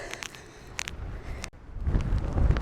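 Wind buffets the microphone in low rumbling gusts on the Pacific Crest Trail, growing stronger toward the end, mixed with scattered clicks and rustling nearby.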